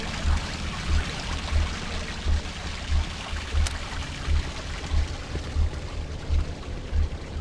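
Water pours steadily into a flooding area in the horror game Cry of Fear, a continuous rushing wash underlaid by soft, regular low thumps, with no voices.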